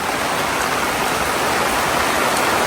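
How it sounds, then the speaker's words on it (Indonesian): Heavy rain pours steadily at a campsite near Bogor, with a dense, continuous hiss, wind-driven and close, filling the whole clip without any voices. "Hujan berangin."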